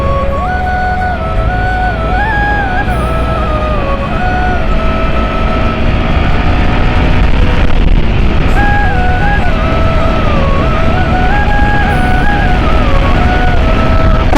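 A Yamaha R15M BS7 motorcycle at speed, its engine revving loud and close, pitch climbing through the gears and dropping back with each shift, with steady wind rush.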